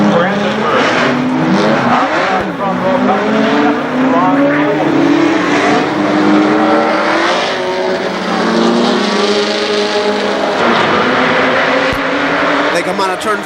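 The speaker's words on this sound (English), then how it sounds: "They come on a turn 4 this time, picking up the throttle." Dirt track race cars roar through turn 4 at KilKare Speedway during the Labor Day Championships, a loud continuous pack of engines rising as throttles open, with an announcer talking over the din.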